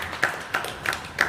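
Four sharp claps at a steady, slow rhythm, close and fairly clear, from a congregation during a church sermon.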